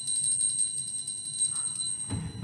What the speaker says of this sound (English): A little bell that I had